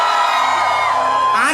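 A loud music-show audience hoots and whoops together at close range, a sustained roaring crowd cry that swells and wavers over its whole length.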